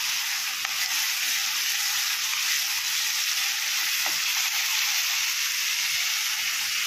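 Onion and garlic fry in hot oil in a pan for an Indian curry, giving a loud, steady, unbroken sizzle with occasional faint stirring scrapes and no voices.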